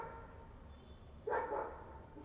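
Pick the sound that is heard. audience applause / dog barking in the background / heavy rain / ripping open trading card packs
dog barking in the background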